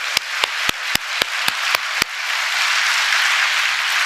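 Applause from a church congregation: eight sharp, evenly spaced claps ring out loud and close, then give way to a broad wash of many hands clapping together at a steady level.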